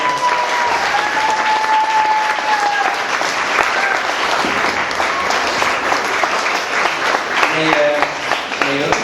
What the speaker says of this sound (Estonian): Aplaus! Aplaus!